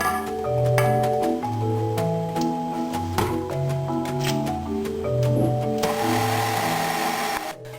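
A stand mixer whirs steadily while beating maple syrup into an egg mixture, a close mechanical drone with a repeating tonal pattern and faint clicks throughout, no voices.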